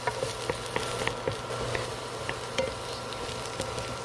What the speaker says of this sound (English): Sauté garlic until light brown.